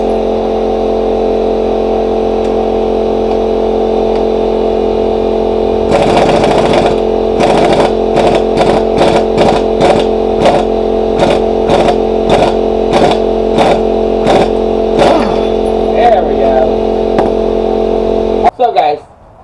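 An impact wrench works on the front suspension of an E36 BMW M3 during a spring swap, firing a rapid series of sharp hammering bursts over a steady loud engine-like drone, with a voice talking throughout.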